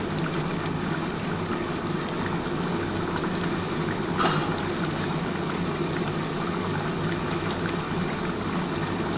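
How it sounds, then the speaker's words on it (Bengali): Soybean and potato curry bubbles away in a covered pot, a constant dense simmering hiss with one brief knock partway through. "একটু ভালোভাবে আগে ফুটে যাক, তারপরে কিন্তু গরম জলটা দেবো"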